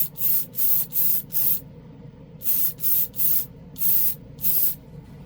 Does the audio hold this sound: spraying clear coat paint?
yes